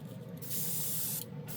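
An airbrush sprays acrylic paint at a hobby bench: a soft, steady airy hiss rising and falling in two bursts, fairly faint and close, with no voices.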